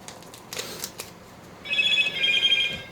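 Mobile phone ringtone starts partway through, a bright warbling electronic trill repeating over a couple of seconds, preceded by small handling clicks and no talking.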